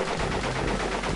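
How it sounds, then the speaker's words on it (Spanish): Rapid machine gun fire from a plane in the first aircraft level of Crash Bandicoot: Warped, a steady dense rattle filling the whole moment, loud and close with no voices over it. "Me encanta la ametralladora."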